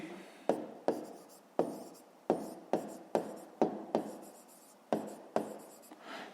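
Pen writing by hand on paper in a quiet room: about a dozen sharp scratchy strokes, each fading quickly, spaced in an uneven rhythm, close and clear.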